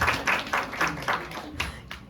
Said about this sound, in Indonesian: Tepuk tangan dong buat Joseph.